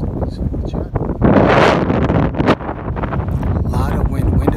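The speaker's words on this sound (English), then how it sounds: "Wind is picking up now." Strong wind sweeps across a golf course and buffets the microphone, rising into a loud roaring gust midway through the clip and then settling into a steady rumble.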